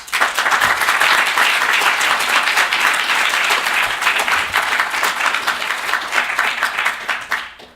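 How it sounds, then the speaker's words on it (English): An audience at a college summit applauds the planning committee, a dense, loud, sustained clapping that fills the room and tapers off at the end. "We need to give them a round of applause."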